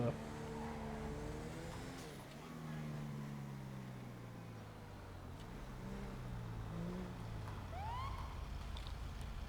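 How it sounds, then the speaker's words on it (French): An ambulance siren in a driving video game wails in rising and falling sweeps, fairly faint and steady beneath the hum of the vehicle, with a voice speaking over it. "Oh, l'ambulance."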